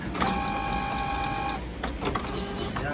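Canon MG3620 inkjet printer running a deep cleaning cycle, giving a steady mechanical whir with tonal motor whine and a few clicks, close and continuous throughout.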